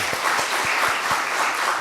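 Church congregation applauding during a worship service, a steady wash of clapping from many hands that fills the whole short stretch without a break, no voices above it.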